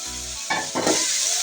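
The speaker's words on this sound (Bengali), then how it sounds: "তো এই পর্যায়ে আমি এখন করলাটা নেড়ে চেড়ে নেবো।" Bitter gourd frying in a pan as it is stirred, a close hiss of sizzling oil with scraping bursts from the spatula, steady and without talk.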